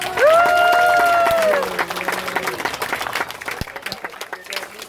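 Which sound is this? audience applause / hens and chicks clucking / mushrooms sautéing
audience applause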